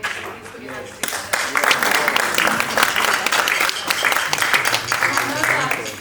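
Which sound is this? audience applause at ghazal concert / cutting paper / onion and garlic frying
audience applause at ghazal concert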